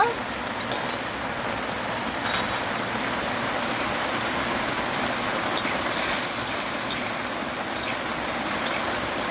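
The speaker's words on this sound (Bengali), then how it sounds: "কত বৃষ্টি হচ্ছে আমাদের এখানে" Heavy rain pours down steadily in a broad, continuous wash, loud and close, with brief spells where the downpour intensifies.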